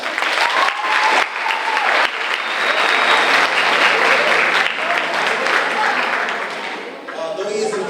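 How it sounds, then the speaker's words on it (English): Loud, sustained audience applause at an 8th grade promotion ceremony, dense clapping filling the hall for several seconds with faint voices beneath, easing off slightly near the end as a speaker begins. "So we have to give Mr. Barber a round of applause for that."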